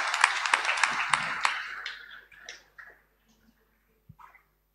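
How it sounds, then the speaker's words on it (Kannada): Congregation applauding in a church to welcome a priest, a burst of dense clapping for about two seconds that thins out and fades to near silence, with a few scattered claps near the end. "ಆದ್ದರಿಂದ ಕ್ರಿಸ್ತರಾಜರ ಧರ್ಮ ಕೇಂದ್ರದ ಎಲ್ಲ ಕುಟುಂಬಗಳ ಪರವಾಗಿ, ನಿಮ್ಮೆಲ್ಲರ ಪರವಾಗಿ ಅವರನ್ನು ನಮ್ಮ ಧರ್ಮ ಕೇಂದ್ರಕ್ಕೆ ಚಪ್ಪಾಳೆ ತಟ್ಟಿ ಸ್ವಾಗತಿಸೋಣ"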